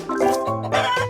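A cartoon chicken clucks in a short burst of close, clear calls with a harmonic, voice-like quality, heard alone in a children's animal learning cartoon.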